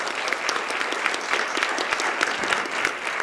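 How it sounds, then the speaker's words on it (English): Steady audience applause at a panel discussion on fifty years of coeducation, dense and even with individual claps standing out, loud and continuous throughout. "Please give a round of applause to Mr. Ron Spencer."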